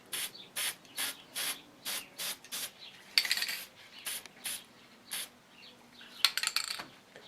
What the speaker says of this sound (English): I'm going to spray in just kind of little short bursts.